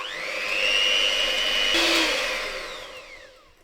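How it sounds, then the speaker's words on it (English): An electric whisk beats eggs, sugar and lemon zest in a glass bowl, a steady high motor whine that rises briefly in pitch, then winds down and fades. "we're going to give this a good whisk"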